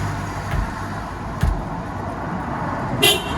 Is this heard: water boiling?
no